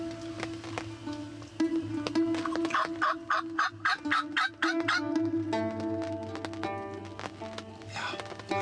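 Wild turkeys gobbling near their roost, several rapid rattling gobbles rolling out in bursts, moderately close and loud, with other bird calls and a steady low hum in the background.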